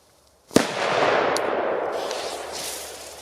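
A single sharp firecracker blast from a P1216 (FP3) or PP3 Kometa 2 g banger, loud and close, followed by a long noisy wash of echo and crackle that slowly fades.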